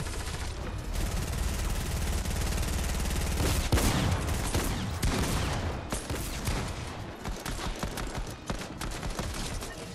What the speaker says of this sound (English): got three pistol eliminations